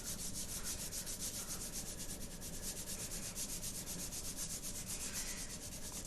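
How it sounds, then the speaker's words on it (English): A crayon colors lightly on paper with a steady, close, rhythmic scratchy rubbing of quick back-and-forth strokes, continuous and evenly loud throughout. "I'm just coloring really lightly with my blue because I don't have a light blue crayon"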